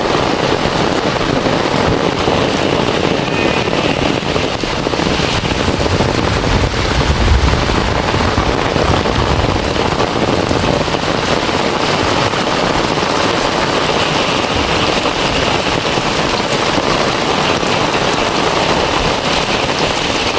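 Heavy rain pours steadily in a quiet village in the countryside, a dense, continuous hiss spread evenly across the whole stretch, with no voices and only a brief low rumble partway through.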